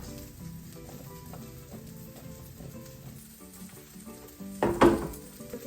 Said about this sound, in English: Some olive oil. Okay, I need to put these potatoes in to roast, and the carrots.